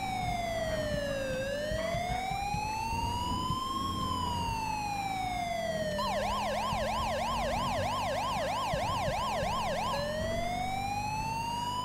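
An ambulance siren modelled on those of Zaragoza, Spain, in the GTA V LSPDFR game, loud and steady, sweeping in a slow wail before switching to a rapid yelp, then returning to the wail, with engine rumble beneath.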